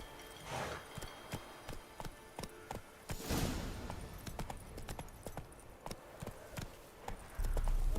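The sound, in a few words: horse hooves clip-clopping, Roach in video game The Witcher 3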